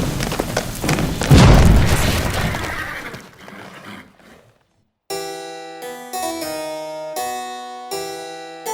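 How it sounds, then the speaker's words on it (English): A heavy boom bursts out with a crashing, shattering roar that fades away, followed after a brief silence by bright sustained musical chords. "On the count of 3, light the cannon."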